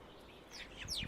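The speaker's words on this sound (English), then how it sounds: "soon enough the robins and the other birds as well got used to it, and they would just come on to the feeder" Robins at a back-garden feeder give a few brief, faint high chirps and tweets, rising toward the end against quiet outdoor background.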